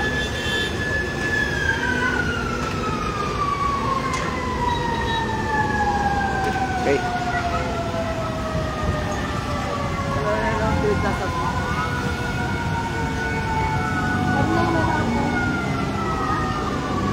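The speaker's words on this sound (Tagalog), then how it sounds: "Marami ng mga fire truck." Several fire truck sirens wail at a fire on Macapagal Avenue, their overlapping sweeping tones rising and falling continuously over a busy outdoor roar with people talking nearby.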